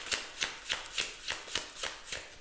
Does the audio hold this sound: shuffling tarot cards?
yes